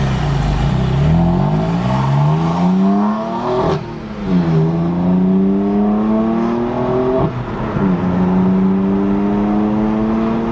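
A BMW M4 with a straight-pipe exhaust roars loud and close as it accelerates hard. The engine pitch climbs, then drops sharply at two gear shifts before rising again.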